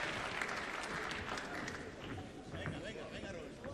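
Boxing crowd in a hall cheering and applauding during a fight, a loud continuous roar of clapping and shouts, with a commentator's voice over it.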